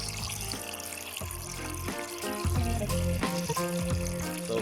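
Water flowing steadily into a pet automatic water dispenser with a float valve, a continuous close splashing trickle with uneven gurgles throughout.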